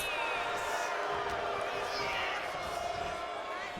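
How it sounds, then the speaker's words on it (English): Wrestling match crowd roaring and cheering in the background of an arena, a steady wash of voices with whoops and occasional thuds, while a commentator talks over it. "I love hearing the crowd in the background just going,"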